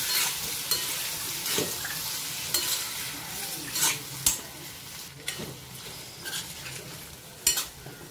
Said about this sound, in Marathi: वांगी तेलावर छान जरा परतून घ्यायचे आधी।